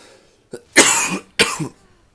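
Two sharp, harsh coughs in quick succession, preceded by a short throaty catch, close and alone against silence.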